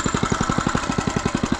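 A small engine on a budget mini bike chugs near and loud with a fast, even pulsing beat, throttle held open, with no voices over it.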